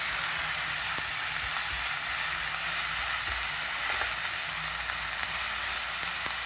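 Paneer bhurji, fried to golden brown, sizzles steadily and loudly in a pan while it is mixed, with a few soft stirring knocks through a dense, unbroken crackle and no voices.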